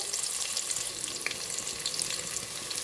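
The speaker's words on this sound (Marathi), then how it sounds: "तेल तापल्यानंतर बारीक चिरलेले दोन कांदे घालून घ्यायचे" Finely chopped onions frying in two spoons of hot oil, giving a continuous bright, hissing sizzle that stays even and close throughout.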